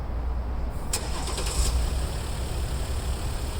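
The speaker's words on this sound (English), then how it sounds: "One of the cool features about the Maserati Levante 3-liter diesel engine is its quiet startup." A Maserati Levante 3-liter diesel engine cranks and catches, then settles into a low, steady idle rumble; the startup is brief and fairly subdued.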